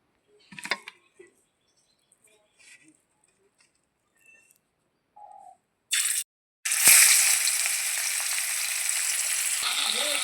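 After a few quiet clicks and short bursts, turmeric-coated rohu fish pieces hit hot oil and set off a loud, continuous sizzle that carries on steadily to the end, with no voices.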